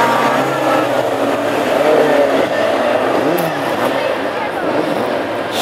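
Classic hot rod race cars rolling slowly toward the start at Hednesford, engines droning steadily at low revs with a continuous broad rumble; a commentator talks over them throughout.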